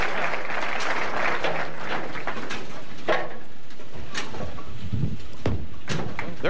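Crowd applause at a professional bowling tournament, a broad steady patter of many hands with scattered sharper claps standing out.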